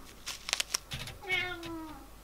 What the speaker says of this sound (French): Il y a mon chat qui n'est pas content.